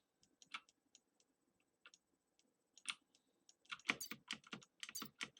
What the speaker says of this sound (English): I'm just pressing F on the keyboard for the fades.